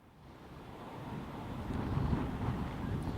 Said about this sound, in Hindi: तेज हवाओं का असर साफ तौर पर देखने मिल रहा है